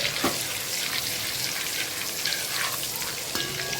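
Cumin seeds sizzling in hot butter in a pan: a steady, bright crackling fry with scattered small pops, close and alone.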